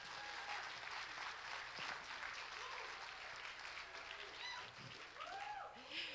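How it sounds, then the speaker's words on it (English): A crowd at an International Day of Persons with Disabilities event in Edmonton claps steadily for several seconds, with scattered cheers and voices rising over the applause toward the end. "So a huge round of applause for our sponsors here today."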